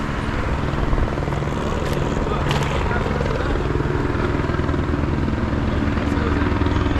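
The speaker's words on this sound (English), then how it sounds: "LAPD helicopter right above." LAPD police helicopter hovering right overhead in Los Angeles, a loud steady rotor and engine roar filling the whole stretch, mixed with street and traffic noise.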